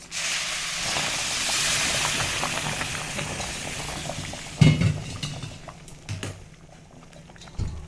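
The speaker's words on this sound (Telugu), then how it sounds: "కొంచెం ఫ్రై అయ్యాక పక్కన వేడి చేసి పెట్టుకున్న నీళ్ళని దీంట్లో పోసుకోవాలి" Heated water poured into frying semolina for upma, a loud rushing hiss and bubbling boil that gradually fades, followed by a few clinks and scrapes of a spoon in the pan.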